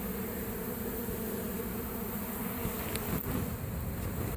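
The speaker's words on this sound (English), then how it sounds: "it's like a tornado of bees around me right now" A swarm of honeybees around a mobile home in Lakeland, Florida, makes a dense, continuous buzzing close by, steady throughout with no talking.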